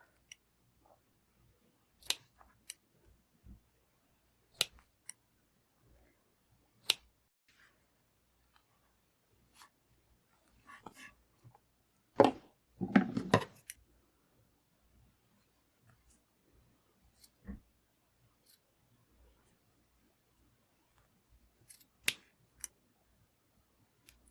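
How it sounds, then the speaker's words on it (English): Kitchen scissors make scattered sharp snips and clicks cutting corset fabric, quiet and sparse, with a short cluster of louder cutting sounds midway through. "so let's use some kitchen scissors"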